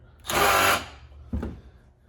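A step drill bit bores through material in a single loud, high-pitched whining burst of about half a second, followed by a brief, lower grinding touch a moment later.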